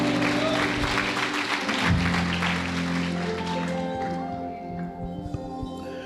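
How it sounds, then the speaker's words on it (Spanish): Church congregation clapping, a loud wash of applause that fades out over several seconds while sustained organ or keyboard tones ring underneath. "Denle un fuerte aplauso al Señor"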